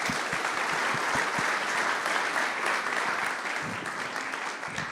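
A room of attendees at a Birmingham AI event breaks into steady, dense applause that holds for several seconds, with sharper individual claps standing out early before the sound tapers slightly.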